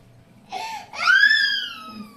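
A young child cries out in two rising, wavering wails, the second louder and longer, close and clear against a quiet indoor background.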